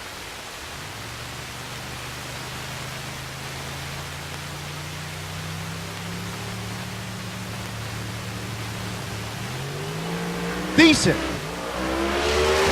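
A drag racing car makes a quarter-mile pass at a Rocky Mountain Race Week event, its engine a distant rising drone climbing steadily in pitch, ending in a brief louder burst; a voice talks over it.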